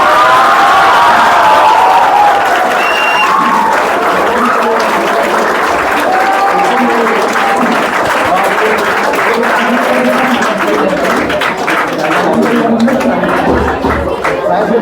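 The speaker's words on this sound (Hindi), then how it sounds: "और सोशल स्टडीज के लिए तालियां हो जाए" Audience at a school batch launch event applauding and cheering, sustained dense clapping with scattered whoops and crowd chatter, loud and close, while a voice speaks over the start.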